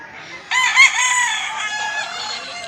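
A tall, large white-legged rooster about a year old lets out a single clear crow that starts abruptly and trails off. It is close and stands alone against a quiet background.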